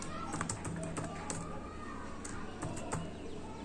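Computer keyboard keys are typed while writing code, quiet scattered clicks and taps in short irregular bursts over a soft background hiss.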